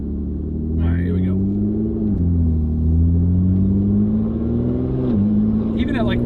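A supercharged V6 in a Lotus Evora GT pulls at moderate revs with a deep, steady engine drone that rises and dips slightly, heard close and loud from inside the car.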